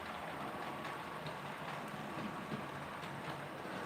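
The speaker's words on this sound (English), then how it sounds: "the train has to go all the way around" A model train runs around a model railway layout with a steady, soft rumble and clatter of wheels on track, continuous and fairly faint with no voices.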